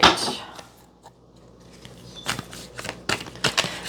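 A deck of tarot cards is shuffled, with a burst of riffling at the start, a quiet gap, then a run of crisp, close flicks and taps.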